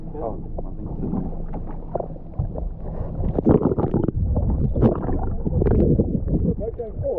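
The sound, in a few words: boat engine moving forward on water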